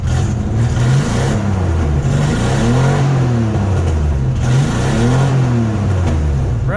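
An abandoned Ford Bronco II's engine revs up loudly and close, rising and falling in repeated swells with a rough, gritty drone and no talking.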